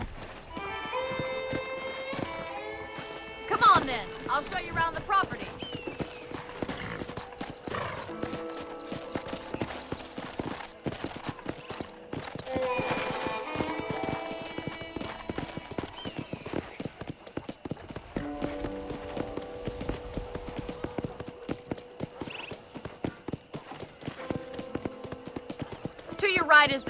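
A horse in the Western video game Red Dead Redemption clip-clops steadily at a walk throughout, with an occasional whinny, while characters talk over the hoofbeats.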